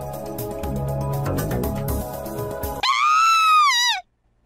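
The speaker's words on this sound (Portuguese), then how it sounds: "ouvi um grito em algum lugar no Shader" Video game scream sound effect, a loud, high, wavering shriek of about a second that cuts in over busy music and ends sharply into silence.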